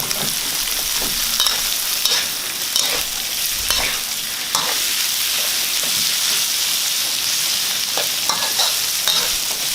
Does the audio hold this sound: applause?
no